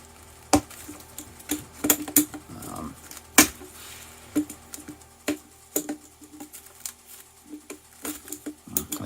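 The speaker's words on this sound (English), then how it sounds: "I'm going to use the pliers to open it up" Pliers clicking and tapping against a Smooth-On Rebound 25 brush-on silicone mold shell as it is pried open, a series of sharp, irregular close-up snaps and knocks with quiet rustling between them.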